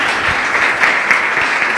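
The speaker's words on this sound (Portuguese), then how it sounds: "Louve a Deus com suas palmas." A church congregation claps hands in praise, a steady dense wash of many palms close by, continuous and fairly loud throughout.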